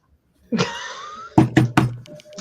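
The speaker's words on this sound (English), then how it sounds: "sort of banging on the front door." Banging on a front door: several heavy thuds come in a quick, uneven run after a sustained tonal sound, loud and close, with no speech.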